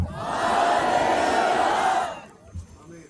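A church congregation shouts hallelujah together in a loud, sustained roar for about two seconds before it drops away, leaving faint room noise and a brief thump.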